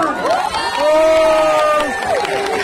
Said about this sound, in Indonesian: kami beri kesempatan untuk seluruh penonton supporter untuk tepuk tangan